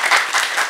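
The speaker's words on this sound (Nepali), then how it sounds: "यो नेपाल सरकारको कदमलाई जोरदार ताली छ" Loud, dense applause from a studio crowd, a continuous burst of many hands clapping that swells and dips briefly, heard close with no voices over it.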